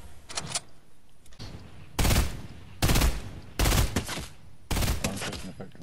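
Gunfire in Fortnite: loud bursts of automatic shots in four distinct volleys, separated by brief lulls, with scattered fainter shots at the start.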